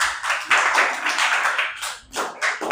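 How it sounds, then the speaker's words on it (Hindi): A short burst of classroom applause for a student at a government school in Bihar, scattered hand claps from several children rising and falling over under three seconds. "इनके लिए एक बार ताली हो जाए"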